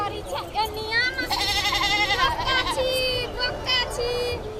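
Goats on a village farm bleat repeatedly, a cluster of loud, wavering cries close by, with children's voices and chatter mixed in.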